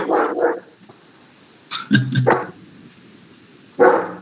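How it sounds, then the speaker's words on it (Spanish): A dog barks near an open microphone, several sharp close barks in a short burst, with brief bits of voice around them. "Aquí tiene el micrófono encendido y escuchamos ahí ladrando a su perro."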